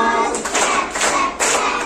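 Hands clap along to a children's action song, three or four sharp, close claps in a quick rhythm, with a voice singing over them.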